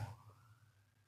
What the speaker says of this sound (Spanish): vamos a dejar pasar la ambulancia